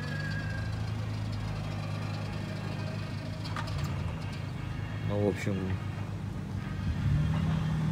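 A rattling car pulls away outside near a garden, its rough engine rumbling steadily beneath a man's speech, with short chirps and a rise near the end.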